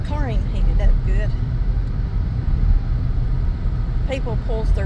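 A car engine idles while warming up on a snowy day in Jenkins, Kentucky, a low, steady hum running beneath a person talking nearby.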